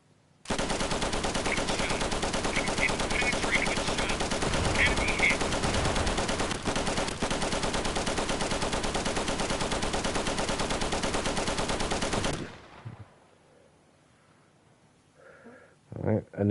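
Continuous heavy machine gun fire from an MG in the World War II shooter Easy Red 2, a dense unbroken burst lasting about twelve seconds that stops abruptly, followed by quiet and a few faint sounds.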